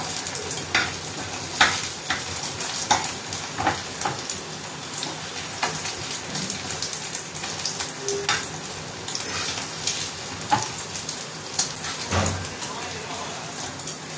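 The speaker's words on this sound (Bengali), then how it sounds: "ডিমটা তো প্রায় ভাজা হয়ে এসছে" An egg fries in a pan, giving a steady loud sizzle with frequent scraping and stirring clicks throughout, and no voices over it.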